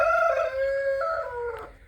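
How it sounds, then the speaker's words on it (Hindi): Pure desi Aseel chickens on a free-range poultry farm shed, giving a loud, close, drawn-out tonal call that sounds more like a crow than clucking, falling in pitch over about two seconds, alone with no talk. "वो ये मुर्गी असील दिखाई दे रही है, ये दोनों असील हैं।"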